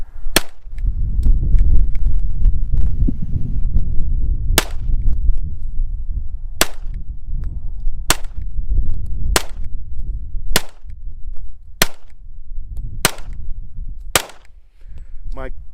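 Nine sharp gunshots from a Kriss Vector .45 ACP rifle crack out loud and close, spaced roughly one to two seconds apart over a steady low rumble of wind or outdoor background.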